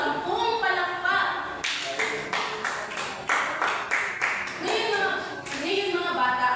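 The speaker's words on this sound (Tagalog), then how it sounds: "Bigyan natin ang ating mga sarili ng 10 palakpak." Children in a classroom clap together in a fast, even series of sharp claps, about ten in a row, with talk and room noise before and after.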